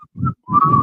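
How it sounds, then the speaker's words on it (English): Men whistle into microphones during a radio-style show, producing two short, clear whistled tones, the second longer and steadier, alone without speech. "3 men whistling into their microphone."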